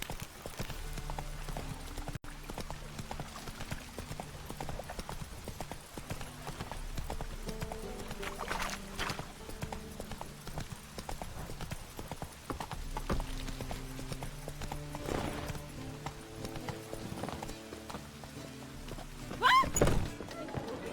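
Hooves of Geralt's horse Roach thud in a steady galloping clip-clop in Witcher 3, continuous and moderately loud over game ambience, with a louder burst of impacts near the end.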